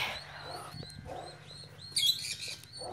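Parrot beside a wooden cage, giving repeated short chirps and tweets with a brief louder squawk burst, against a low background hum.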